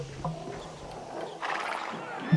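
Horses running in the Ara: History Untold strategy game, soft game hoofbeats and rustle mixed with ambient game sound, fairly quiet, with no one talking over it.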